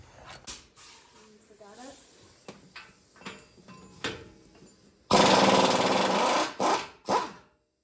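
Impact wrench working on a Ford Expedition ball joint in a garage: a loud, sustained burst of rattling hammering near the end, then two shorter bursts, following scattered clanks and knocks of tool handling.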